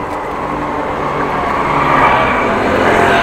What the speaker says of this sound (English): Traffic from both directions, even a car.